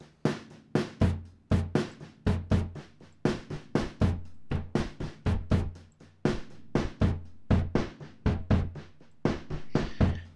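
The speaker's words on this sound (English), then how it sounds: "like drum sounds like this," Synthetic drum hits run through a noise generator, a steady sequence of sharp, punchy percussive strikes with quick decays that repeat in a rhythmic pattern, each loud and close with nothing else around them.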